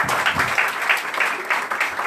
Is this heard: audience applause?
yes